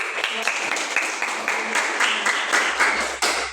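A classroom of students claps together, a brisk patter of many hands at moderate loudness with some voices mixed in.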